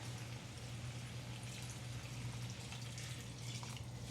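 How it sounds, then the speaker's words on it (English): Water poured into a pot while cooking a gluten-free veggie pot pie: a soft, continuous splashing stream, fairly quiet and steady from start to finish, with a faint low hum underneath and no talking. "more of my water."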